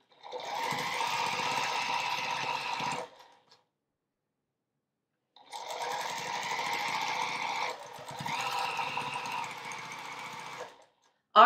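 A sewing machine stitching an Ohio Star quilt block runs in bursts: a three-second run, a pause of silence, then a longer run that shifts pitch partway, ending with a sharp click.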